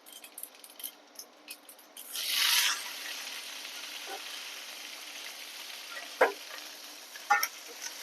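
Curry leaves hit hot oil and a brief burst of crackling sizzle flares up, then eases into a quieter fry with a few light clinks of a utensil, close by and with no talking.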